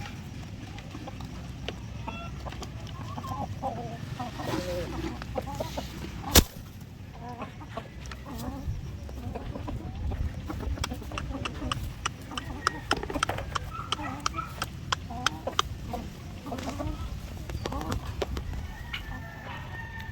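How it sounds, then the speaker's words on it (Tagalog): Shamo gamecocks cluck and call on a poultry farm, with scattered bird sounds over a continuous background of farmyard noise and one sharp knock partway through, while someone talks intermittently. "Ito naman yung mga shamo natin mga ka-farmers."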